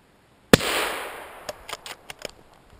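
A single gunshot fired while hunting in a forest, one loud sharp crack that rolls away into a long fading echo with a few faint pops and rustles after it.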